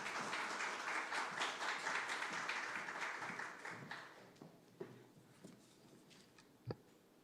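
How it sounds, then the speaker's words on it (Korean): An audience at a school admissions information session claps to welcome the elementary principal. Dense, steady clapping lasts about four seconds, then thins into a few scattered, fading claps. "우리 박수로 환영 부탁드립니다."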